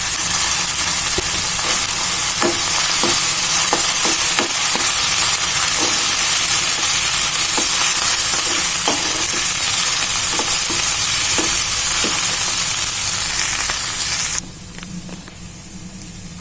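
Boiled chicken seasoned with salt and turmeric fries in a pan with curry leaves, giving a loud, continuous sizzling hiss with sharp stirring clicks throughout, until the sizzle drops off abruptly near the end.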